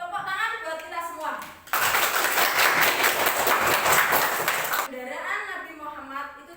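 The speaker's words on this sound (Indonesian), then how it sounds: "Tepuk tangan buat kita semua" A burst of dense clapping applause from a group at a university event lasting a few seconds, with voices speaking Indonesian just before and after it.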